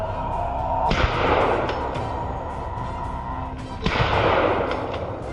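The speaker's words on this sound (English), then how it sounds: "A series of gunshots rang out, taking down the lead boar" Gunshots fired at charging wild boar during a forest hunt, two sharp loud blasts about three seconds apart, each trailing into a long rumbling echo over a steady outdoor background.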